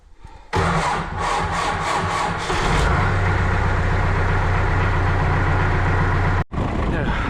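A tractor engine cranks with a rapid chugging starter rhythm, then catches and settles into a loud, steady diesel idle close by, with a brief dropout near the end.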